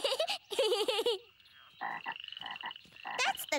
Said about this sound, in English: That's the grown-up daddy frog.